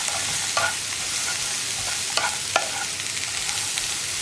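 Jackfruit seeds with onion and chilli stirred in a pan, a steady close sizzle of frying under scattered scrapes and taps of the spatula.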